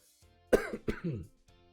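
A person clears their throat a couple of times in quick, rough bursts, close and fairly loud, with quiet pauses around it.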